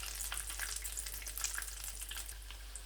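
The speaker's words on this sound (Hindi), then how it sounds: "बाकी जो टिक्कियाँ रह गई थी वो भी मैंने बीच में ऐड कर दी हैं ऑयल के" Potato tikkis frying in hot oil, giving a dense, continuous crackling sizzle with many sharp little pops, close and fairly quiet, over a low steady hum, with no talking.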